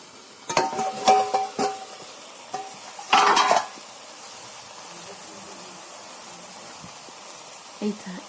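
A lid is lifted off a pot of shrimp cooked with greens, giving a brief metallic clatter at about three seconds, with a few earlier clinks of cookware and a quiet kitchen background.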